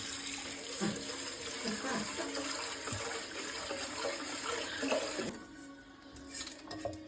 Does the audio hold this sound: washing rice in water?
yes